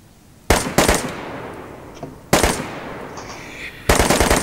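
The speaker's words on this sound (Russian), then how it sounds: "Слышишь, вот он стреляет." Gunfire in the video game DayZ comes as three loud, close bursts of rapid automatic shots separated by short pauses, with fainter distant shots between them.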